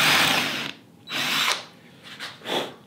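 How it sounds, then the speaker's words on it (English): A power drill bores through a wooden plane front knob held in a vise, with a long whirring burst, a second shorter run, then a few brief stuttering pulses, loud and close with no talk. "we're going to drill right through the middle"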